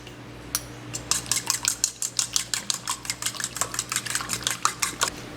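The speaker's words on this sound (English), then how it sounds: "just basically mixing or whisking everything all together" A fork whisks a French toast egg mixture in a dish with a quick, steady run of about twenty clinking metal-on-dish strokes, close and fairly loud, with no talk.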